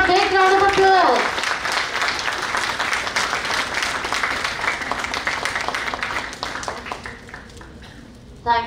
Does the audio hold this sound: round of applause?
yes